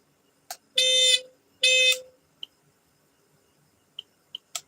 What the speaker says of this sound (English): I'll switch the buzzer off